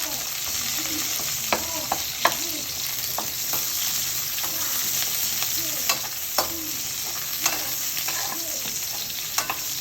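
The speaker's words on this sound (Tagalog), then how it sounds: "Haluin lang natin hanggang mag brown brown siya." Banana blossom and onion stir-frying in a pan, a constant close sizzle punctuated by sharp spatula scrapes and taps at irregular intervals.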